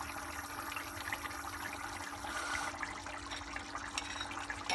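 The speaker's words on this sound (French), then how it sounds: "On va mettre un peu d'eau." Water trickles and pours into a bowl holding a spoonful of flour for a pastry filling, a faint, steady running stream close by that shifts partway through, with no voices.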